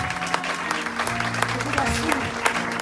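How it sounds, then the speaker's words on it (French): A church congregation applauding and cheering: dense, steady clapping fills the whole stretch, with a voice speaking over it. "Est-ce que tu peux acclamer le roi des rois?"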